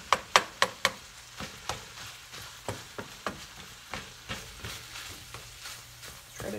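Sausage mixture frying in a pan while a utensil stirs and scrapes it, giving a run of sharp, irregular clacks over a soft, steady sizzle close by.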